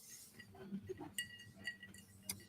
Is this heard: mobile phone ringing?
no